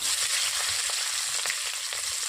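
Green chillies and chopped onion hitting hot oil in a pan, a steady loud sizzle with faint stirring clicks running through.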